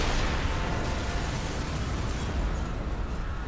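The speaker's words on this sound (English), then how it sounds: "Explosion to the left." An explosion in the video game Darksiders, heard as a loud, dense, sustained roar of rumbling blast noise that fills the whole stretch and fades only slightly at the end, with no voices.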